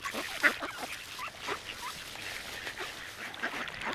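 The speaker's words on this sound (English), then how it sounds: "Let's go to the lake to see if there's any ducks on there." Ducks on a lake being fed oats, a few scattered quacks and honks with soft dabbling and rustling, moderately close over outdoor ambience.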